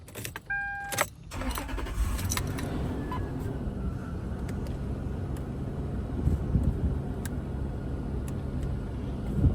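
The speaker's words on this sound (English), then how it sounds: "let me start the car, and I'll show you the engine as well" A 1999 Toyota Land Cruiser VX Limited 4.7-liter V8 cranks and catches after a few clicks and jingling keys, then settles into a steady low idle running close by.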